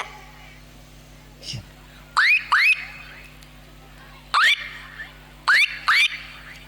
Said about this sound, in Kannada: ರಿಮೋಟ್ ಒತ್ತಿದಾಗ ಕೆಲವೊಂದು ವಾಹನಗಳದ ಕಾರ್ ಲಾಕರ್ ಯಾವ ರೀತಿ ಸೌಂಡ್ ಇರುತ್ತೆ